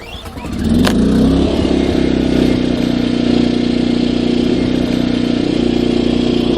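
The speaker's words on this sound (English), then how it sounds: "I'm going to fire up the generator now." A trailer's generator, wired through a 50A transfer switch, cranks, catches within a second and settles into a loud, steady running drone.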